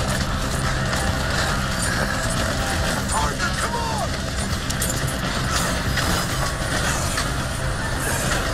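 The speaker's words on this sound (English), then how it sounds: "We gotta get on that train!" A moving train in the video game Red Dead Redemption 2 rumbles and rattles steadily on the rails, a dense continuous clatter with no pauses, heard from close by.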